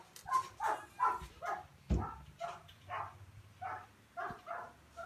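Dogs barking and whimpering nearby, a series of short yips and barks in an uneven rhythm, fairly faint with a few louder woofs.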